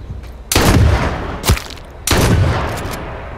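Gunfire in the H1Z1 battle royale game comes as three sharp, loud reports: two heavy blasts about a second and a half apart with a shorter crack between them, each ringing out briefly.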